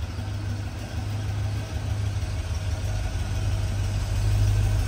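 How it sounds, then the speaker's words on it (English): A 1971 Oldsmobile Cutlass S engine idles steadily and close, a smooth low rumble holding even from start to finish with no talking. "Easy start. Idle's great."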